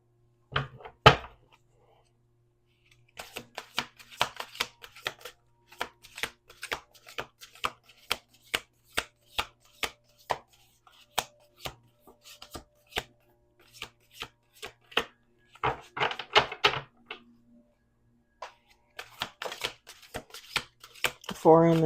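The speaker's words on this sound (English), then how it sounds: "We're going to do 2 more shuffles." Tarot cards being shuffled in quick bursts of crisp riffling clicks, with pauses between rounds and brief talking at the start and end.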